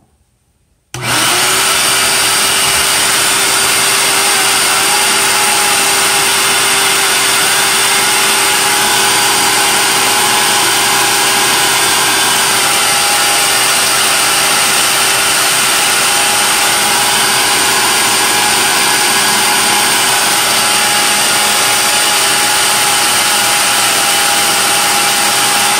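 A Shop-Vac 5-gallon 2 peak HP wet/dry vacuum switches on after a second of near silence and runs at full power, a loud steady whine and rushing roar that holds unchanged to the end.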